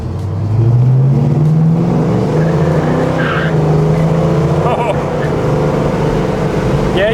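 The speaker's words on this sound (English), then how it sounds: "Yeah, you definitely did squeal the tires a bit." A 1971 Pontiac LeMans T-37 squeals its tires as it accelerates hard, with a loud, steady engine roar and a rising tone that levels off and holds close by for several seconds.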